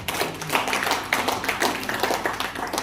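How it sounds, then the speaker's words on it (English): Church congregation clapping together in praise during a worship service, a dense, steady patter of many hands that runs without pause from start to end, fairly close and with no talking over it. "Can we give a clap of praise for..."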